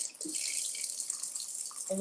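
Tap water runs steadily into a sink while food is prepared in a home kitchen, a soft continuous hiss with a few faint clinks and knocks.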